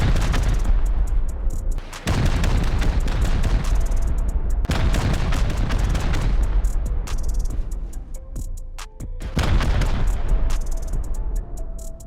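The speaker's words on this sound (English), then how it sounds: "Now let's see what rockets do to it." Rockets slam into a cave base built with stacked garage doors in a survival video game, a series of loud booming blasts with rumbling decays, repeated several times with short gaps.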